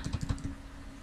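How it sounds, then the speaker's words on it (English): Quick burst of about six keystrokes on a computer keyboard, soft and close, then quiet room tone for the rest of the second. "Oh, sorry, my typing."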